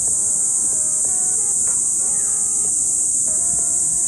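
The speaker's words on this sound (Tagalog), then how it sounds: "Ang ganda dito, yung tunog yung mga kuliglig tsaka yung ano." A steady high-pitched drone of crickets fills the air, with a few birds chirping intermittently in the background, outdoors and calm in Bulacan, Philippines.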